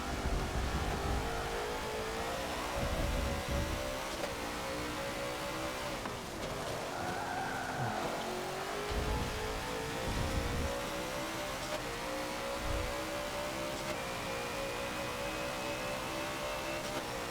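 Race cars including a Maserati in the racing game Forza 7, with steady engine drone and revving swells throughout, loud and continuous with no talk.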